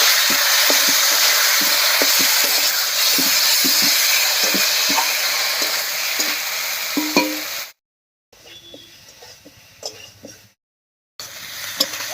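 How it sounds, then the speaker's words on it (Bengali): Potatoes cooked for a thin red pangas fish curry fry in a pan with a loud, steady sizzle, while a spoon stirs and scrapes through them. The sound drops out in two brief gaps near the end. "আলুটা ভাজা ভাজা মতো হয়েছে আর একটু সেদ্ধ হয়ে গেছে এবারে মশলাটা দিয়ে দিবো"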